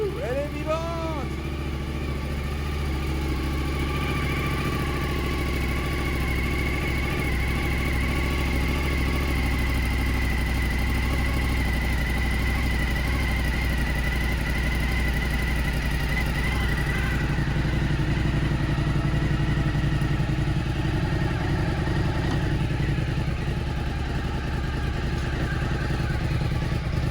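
A Suzuki SV1000 motorcycle idles steadily after its first start, a loud, continuous lumpy twin-cylinder burble with slight unevenness, close to the listener and unbroken throughout.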